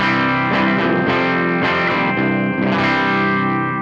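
Electric guitar with a clean sound from a ToneX amp modeler, bright, full sustained chords strummed repeatedly with a shimmering, effect-laden sheen, close and steady with no talking.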